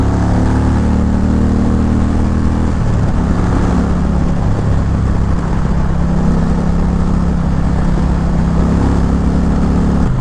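A stock motorbike with a dual exhaust system, its engine droning loud and close, with the pitch shifting as it revs near the three-second mark, steady with no talk.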